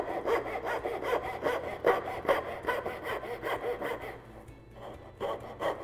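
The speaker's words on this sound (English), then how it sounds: "Now I can use my same dovetail backsaw to cut out the waste" A dovetail backsaw cuts waste from wood in steady, rhythmic strokes, about two per second, close and clear, with a brief pause near the end before sawing resumes.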